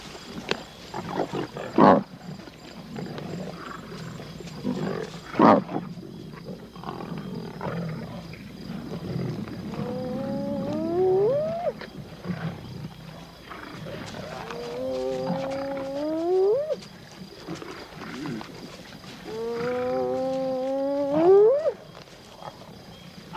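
Lions and cubs feeding on a carcass at night in the African bush, with snarls, rumbling growls and rising moaning calls that come and go over more than twenty seconds, near and fairly loud.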